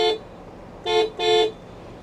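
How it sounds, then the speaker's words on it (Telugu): Dual horn on a Tata Altroz hatchback: one short beep followed by two longer honks close by, with pauses between them and no talk. "దీంట్లో డ్యూయల్ హార్న్ వస్తుంది అనమాట రిథమ్ ప్యాక్ అయితే."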